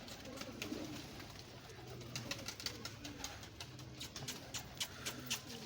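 Pigeons of many breeds kept by a fancier coo softly in a loft, low throaty calls repeating under faint background noise, with wing flutters and rustles mixed in.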